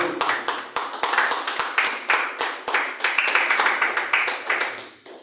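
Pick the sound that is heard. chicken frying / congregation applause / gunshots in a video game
congregation applause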